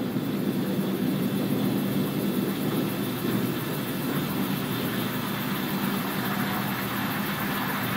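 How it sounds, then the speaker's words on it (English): The SpaceX Falcon 9 first stage, with its single center engine relit for the landing burn, gives a steady broadband roar at moderate, distant level that stays constant throughout, with no voices. "Stage one, landing burn startup."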